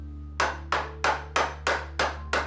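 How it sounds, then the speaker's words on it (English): A hammer strikes a steel door hinge pin resting on a hard surface. Seven sharp metallic whacks land at a steady, even rhythm, close and loud. "give it a good whack to put a small bend in it, then replace it."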